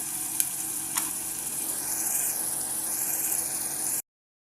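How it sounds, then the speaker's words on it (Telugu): Onions frying in a covered pan with a steady close sizzle throughout, a couple of brief clinks near the start, and the sound cutting off abruptly before the end. "బాగా కలబెట్టేసి మూత పెట్టేసుకొని లైట్ బ్రౌన్ కలర్ వచ్చేంత వరకు ఆనియన్ అనేది ఫ్రై అవ్వనివ్వండి"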